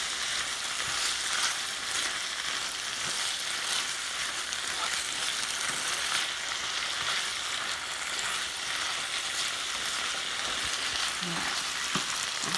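Beef and broccoli sizzling in a stir-fry pan, a steady bright hiss of frying with occasional stirring clinks, continuous throughout.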